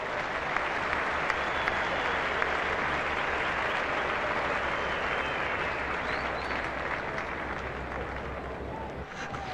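A cricket crowd at a 1992 Sydney test match applauds a fine on-drive, producing a dense, sustained roar of clapping and cheering that stays loud throughout, with faint voices beneath.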